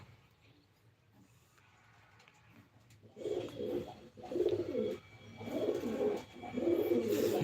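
Pigeons coo in close, repeated throaty bursts that start after a quiet few seconds and grow louder, in a home pigeon loft.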